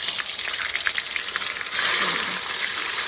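Eggs are dropped one by one into hot oil with turmeric, a close steady sizzle with small pops that swells louder partway through, no one speaking.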